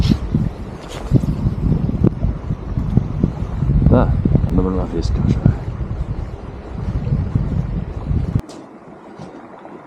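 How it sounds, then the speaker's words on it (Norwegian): Gusty wind buffets the microphone outdoors beside a swollen river during November sea trout fishing in Rogaland, a steady rough roar with a few stronger surges. Someone talks briefly over it before the wind drops off abruptly. "Vinden kommer litt I kast, så det går an å kaste nå."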